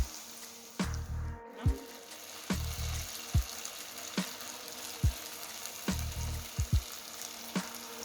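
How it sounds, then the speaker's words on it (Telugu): Paneer cubes being fried in oil make a quiet, steady sizzle, broken by regular knocks and taps from a utensil against the pan. No voices are heard. "జాగ్రత్తగా డ్రాప్ చేసుకోండి ఆయిల్లో"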